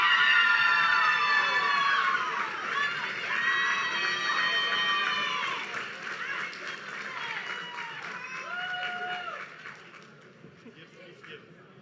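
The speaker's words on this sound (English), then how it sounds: "One more round of applause for our Female Athlete of the Year." Crowd cheering and clapping at a university athletics awards ceremony, with shouting voices and whoops loud at first and tapering off toward the end.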